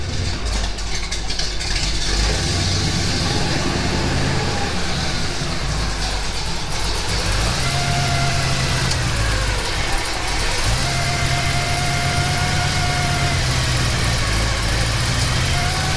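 A car engine idles steadily with a deep, throaty rumble from a loud aftermarket exhaust with headers, close by and continuous throughout.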